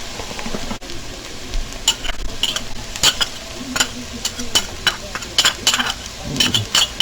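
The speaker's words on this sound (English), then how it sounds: "Next I'm going to add in the garlic and ginger, fresh ginger." Fresh garlic and ginger stirred in a hot pan, with a soft sizzle under repeated scraping and clinking of a utensil against the pan in irregular bursts.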